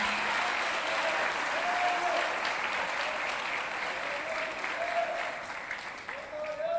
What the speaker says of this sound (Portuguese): Use essas mãos lindas e dê uma rajada de palmas para Jesus.